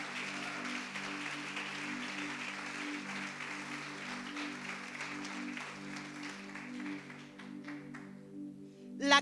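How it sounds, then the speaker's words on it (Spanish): A church congregation applauding together, a dense, steady clapping that fills the room at moderate volume, fading slightly near the end before a brief louder burst. "Denle un aplauso a Cristo."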